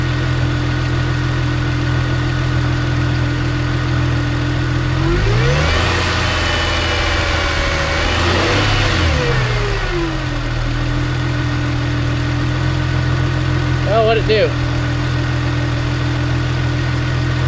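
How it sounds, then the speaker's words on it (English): A car engine idles steadily, then revs up once in a smooth rise, holds briefly and falls back to idle, with a short flutter near the end, loud and close with no voices. "Let me give it a rev and see what we get there"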